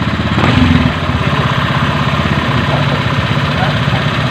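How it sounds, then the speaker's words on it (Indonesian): A Honda Beat FI motorcycle engine runs at a steady idle close by, its low throbbing pulse continuous throughout, with a brief louder surge near the start. "Sekarang akan kita nyalakan motornya kembali dan kita periksa pengisiannya"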